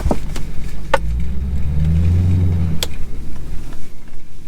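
A Lexus GS's exhaust rumbles low and steady while driving, with a deeper drone building and fading, and a few sharp clicks along the way.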